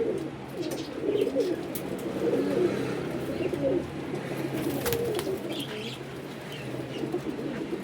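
A group of eighteen pigeons kept for sale coo in overlapping low, throaty calls, near and steady, with occasional chirps and light wing noise.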